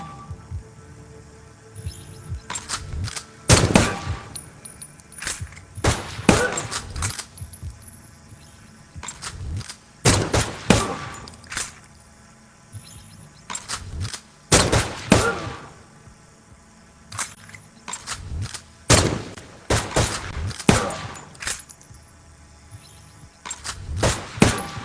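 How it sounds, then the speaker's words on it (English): Repeated pistol shots ring out in the Stride VR game, sharp loud cracks in small clusters spread across the passage, with clanks and movement between them. "Take a pistol and shoot 7 times."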